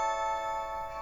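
A Blink video doorbell chime rings out as a sustained, bright electronic tone held steadily for about a second, with the other Blink mini cameras chiming along as a faint overlapping echo; no one speaks.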